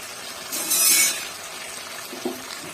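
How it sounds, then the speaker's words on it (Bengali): Hot water is poured into a pot of chicken curry, causing a brief hissing splash and sizzle that fades into quiet cooking, followed by a faint clink near the end. "এবার গরম জল করে নিয়েছি গরম জলটা এতে ঢেলে দেবো"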